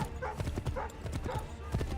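Horse hooves clip-clop steadily in Assassin's Creed 3, a busy rhythmic patter of hoofbeats sitting close and fairly loud against a rumbling game soundscape.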